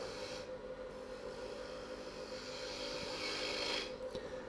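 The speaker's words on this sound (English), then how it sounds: "I'll sand it up." Sandpaper rasping steadily against a spinning turned wooden acorn box on a lathe, a continuous faint hiss and scrub with a light rhythmic texture.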